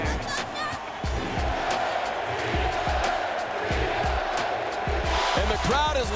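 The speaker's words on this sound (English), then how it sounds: "And the crowd is louder than it's ever been in this building." At Oklahoma City's first playoff basketball game, a loud crowd roars and cheers. Heavy rhythmic thumps pulse through the noise, and a rising whoop comes near the end.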